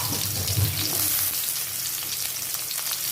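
Onions sizzle and fry steadily in a hot pan for green masala ghee rice, a continuous close crackle with a faint stir or two and no talking.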